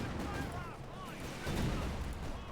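Scattered small-arms and machine-gun fire in a Company of Heroes 2 skirmish between OKW and British forces, a dense steady rumble of distant shots and booms under continuous commentary.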